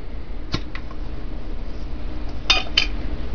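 A jar of homemade apple butter is opened in a kitchen, giving a few faint, brief metallic clicks and clinks from the lid and a tablespoon, close by and quiet with no talking.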